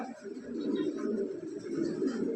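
Red Lahori pigeons, a breeding pair sitting on eggs, coo in a low continuous murmur throughout, steady and fairly close, with no speech over it.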